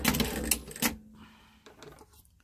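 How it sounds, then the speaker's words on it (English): A sewing machine runs in short bursts while stitching across the face of a memory bear made from a Simplicity A2115 pattern, a close mechanical whir that stops and then trails into quieter handling sounds. "And sew right across the front of his face."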